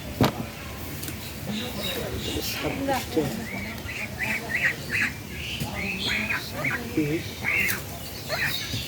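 Ducks quacking in a run of loud, nasal calls, mixed with people talking nearby and steady outdoor background noise.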